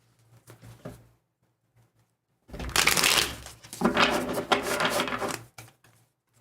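Tarot cards being shuffled by hand during a live reading, a dense papery riffle and rustle lasting about three seconds, close and clear, following a brief quiet stretch of light handling noise.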